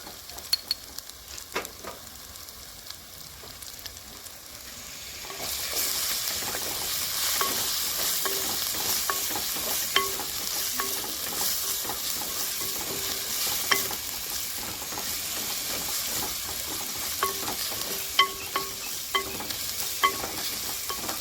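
Mutton curry frying with turmeric for gongura mutton, with a quiet scrape at first, then a broad, steady sizzle that rises and holds, broken by regular stirring scrapes and light clinks of a spoon on the pan, close up.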